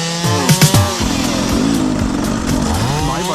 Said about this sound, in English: My bike is noisy on the road.